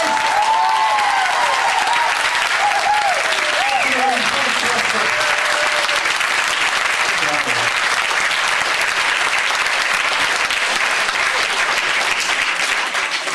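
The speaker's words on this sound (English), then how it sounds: "I think we should give you another round of applause" An audience at a Liverpool lecture gives the Palestinian ambassador a long, loud round of applause, dense and unbroken, while someone speaks over the start of it.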